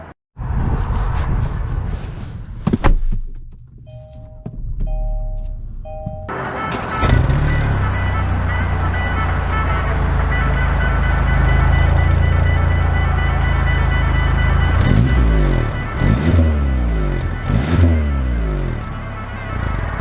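A 2022 Kia K5 GT sedan pulls away and starts driving, its engine rising from a steady low drone into a louder rumble with a few revving surges toward the end, close and continuous with no talk.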